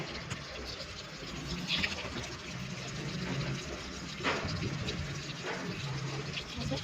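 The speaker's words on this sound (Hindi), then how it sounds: "देखिए इसमें पानी चालू हो गया है" Water runs steadily into a washing machine drum, a continuous gushing fill with a faint splashy texture, heard at close range throughout.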